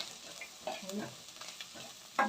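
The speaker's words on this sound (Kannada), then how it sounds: "ಈರುಳ್ಳಿ ಸ್ವಲ್ಪ ಚೆನ್ನಾಗಿ ಬಾಡ್ದಾಗ ಎಣ್ಣೆಲಿ ಚೆನ್ನಾಗಿ ಬೆಂದಾಗ" Onions sizzle and fry in oil in a pan for chitranna while being stirred, a soft, steady crackle broken by a few scraping stirs and one sharper clatter near the end.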